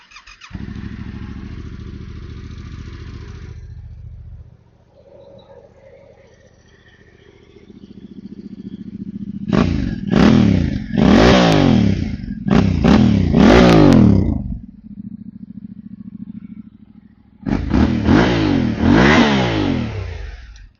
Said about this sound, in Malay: Terminal ni aja bunyi dia